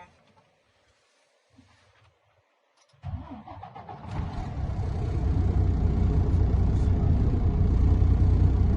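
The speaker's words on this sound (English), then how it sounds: "I'm now going to safe start the vehicle." A truck's engine cranks briefly after near silence and catches, then settles into a loud, steady low rumble that builds slightly, heard close during an air brake pre-trip inspection.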